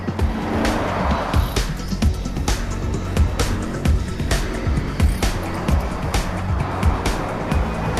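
A Porsche Cayenne S (type 957) under way, naturally aspirated V8 or V6 engine humming steadily with road and tyre roar, loud and close, no talk.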